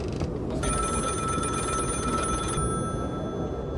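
A telephone ringing in the horror game The Cabin Factory, a bright electronic ring repeating for about two seconds over a dense, noisy background, with no speech.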